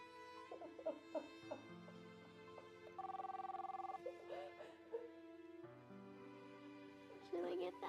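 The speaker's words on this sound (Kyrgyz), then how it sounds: "Телефонго жооп берейинби?" An old-style telephone bell rings in a steady repeating pattern at moderate loudness, with a dog whimpering and soft background sounds between rings.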